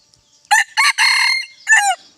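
A wild rooster crows loud and close: a few sharp, strained bursts followed by a final drawn-out call, with no other sounds.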